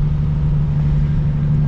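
A Nissan 350Z cruising around town gives a loud, steady engine hum with a constant low drone.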